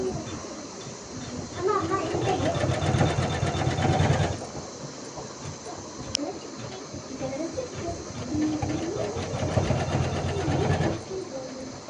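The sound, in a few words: embroidery machine stitching design in gold thread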